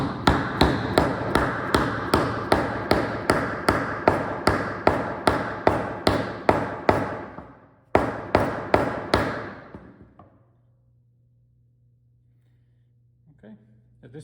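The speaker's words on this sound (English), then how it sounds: "You just hammer them in as far as you can" Rapid, steady hammer blows driving hardwood wedges into a mortise and tenon joint, about two per second, loud and close, then a brief pause, a few more strikes, and near silence.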